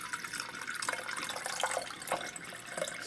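Tap water runs into a Pyrex glass container, a soft, steady splashing stream with faint bright pours and no talk.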